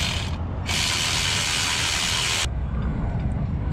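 A ratchet wrench clicks rapidly as it tightens the bolts on a new starter motor in a car, a dense, bright run of ratcheting heard close over a steady mechanical background hiss.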